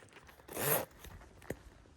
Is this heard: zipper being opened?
yes